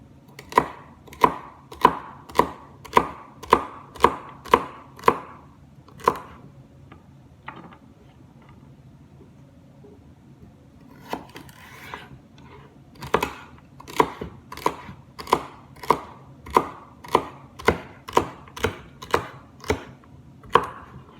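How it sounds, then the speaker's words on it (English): Vegetables chopped into big chunks on a cutting board for a crockpot roast, with rapid, loud, even knife strikes in a steady run, a brief quiet pause, then another quick series of chops. "if I was just to chop this long ways, these big chunks would give way more flavor than the little ones"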